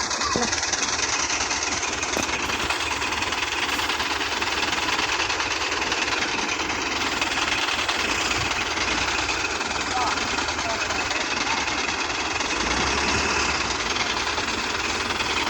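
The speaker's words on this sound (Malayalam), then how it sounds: "ഗൈസ് വണ്ടി സ്റ്റാർട്ടാക്കി." A vehicle engine runs steadily after starting, a continuous rough droning rumble that stays loud and even throughout, close by.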